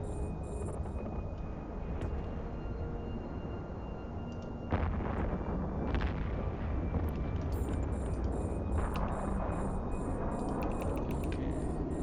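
Weapons fire from a ship in the space game Eve Online as it attacks cruise missile batteries in a Level 4 Guristas mission: a steady rumbling barrage with booming impacts, louder from about the five-second mark, with no talking.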